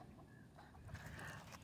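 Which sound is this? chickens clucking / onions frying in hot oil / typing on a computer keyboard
chickens clucking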